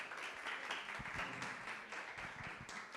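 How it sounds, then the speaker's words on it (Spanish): Steady applause from a workshop audience at a circular economy festival fills the whole stretch, a dense continuous patter of many hands clapping at moderate loudness with no voices over it. "Recibámosla con fuertes aplausos para dar inicio a este taller programado para hoy."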